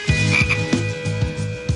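Large frogs croaking by a pond, loud repeated throaty croaks in a steady pulsing rhythm, close and clear with no talking.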